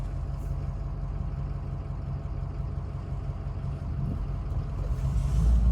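A pickup truck engine idles with a steady low rumble, close and continuous, swelling slightly louder toward the end with no talk over it.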